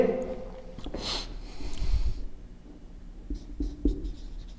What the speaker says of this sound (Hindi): तो हम यहां पे लिखेंगे